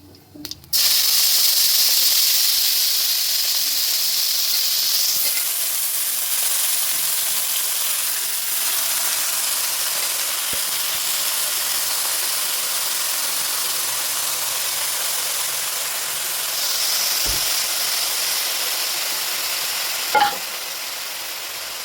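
Chopped spinach fries in a pan as a steady, loud hiss and sizzle that holds for the whole stretch, with a brief clink near the end.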